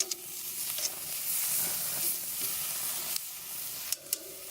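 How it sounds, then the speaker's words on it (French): Merguez sausages sizzle steadily as they grill, a constant close hiss with a few brief clicks and dips near the end, and no voices. "les saucisses, ils vont bien. Ah oui, tout bien grillé"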